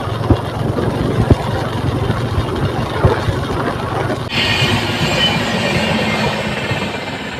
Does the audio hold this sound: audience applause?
no